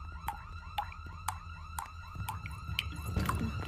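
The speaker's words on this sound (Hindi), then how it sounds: "सायरन क्यों बज रहा है? ये पुलिस की गाड़ी।" A police car siren wails in repeated rising-and-falling sweeps, loud and close, with a low rumble of traffic building underneath toward the end and no voices over it.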